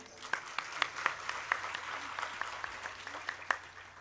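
Scattered hand claps from a seated audience at a Bhagwat Katha religious discourse in Bamni Buzurg, Dewas district, sounding as sparse, uneven bursts of clapping with some murmured voices in the background.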